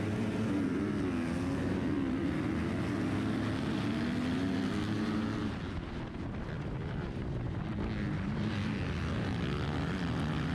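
A pack of motocross dirt bikes launches from the starting gate at Lincoln Trail MX, a loud, dense roar of revving engines with wind rushing across the microphone, rising and shifting as the riders pull away.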